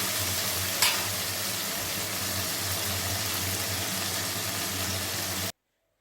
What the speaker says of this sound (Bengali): টমেটো আর কাঁচা লঙ্কাগুলো দিয়ে দিলাম। দিয়ে ভালো করে ভেজে নিচ্ছি।